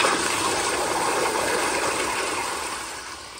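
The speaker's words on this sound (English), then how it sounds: "but here is another flush." A Zurn child-size toilet flushes in one steady, loud rushing wash of water that holds strong for about three seconds, then begins to ease off near the end.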